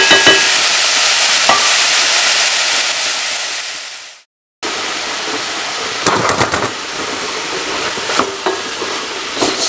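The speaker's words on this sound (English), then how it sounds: "And now we're going to give it a stir." Mixed peppers frying in a pan, a loud, dense sizzle with stirring scrapes, interrupted by a short gap before the crackling resumes with sharper pops.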